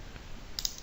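A computer mouse clicks twice in quick succession, a short, faint double click near the end over quiet room noise.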